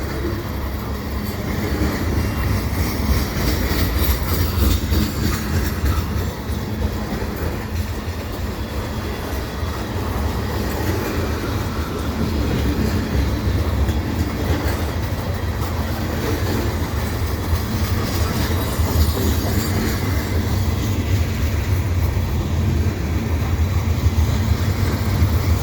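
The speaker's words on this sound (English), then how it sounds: "Focus a little more here on the CN train because that seems to be moving faster." A CN freight train rolls past at Lachine EXO station on a winter afternoon, its steady loud rumble and rail noise continuing unbroken from start to finish with no voices.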